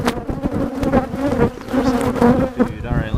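Honeybees buzz loudly and continuously during a spring hive inspection, a dense close-up drone of many wings with shifting pitch and no talking.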